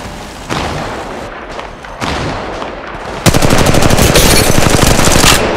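Loud, close automatic gunfire in the video game Apex Legends Mobile, with heavy bursts at first and then a rapid sustained stream of rounds with thumping impacts.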